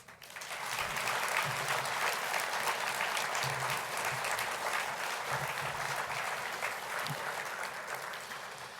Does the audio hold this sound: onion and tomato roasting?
no